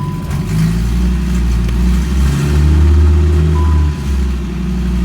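Engine swapped from an Audi RS3 into a Skoda Octavia vRS, heard from inside the cabin as a loud, continuous low drone that surges and falls over several seconds while revving.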